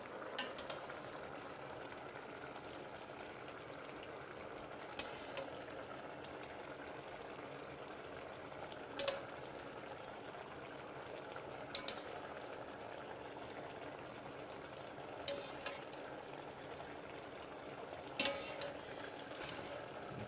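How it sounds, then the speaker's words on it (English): Prawn shell liquid reducing in a pan, a steady low bubbling simmer with faint sizzle throughout, broken by occasional light clinks of a utensil against the pan. "Now I'm going to add the prawn liquid."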